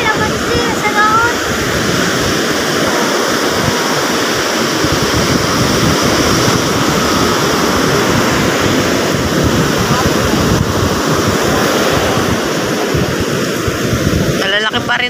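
Heavy surf from big storm waves pounds the sea while a boat heads out in typhoon conditions, a loud continuous wash and roar with strong wind buffeting the microphone.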